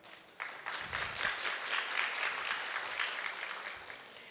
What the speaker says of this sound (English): That calls for a round of applause.